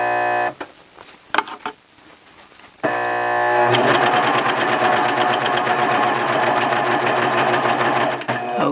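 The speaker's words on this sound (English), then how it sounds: "I'm going to sew overlap some of the stitches" Serger sewing machine overlapping stitches while sewing a T-shirt hem: a few short stop-start bursts, then a loud, steady, fast mechanical whirring run that carries on for several seconds close by.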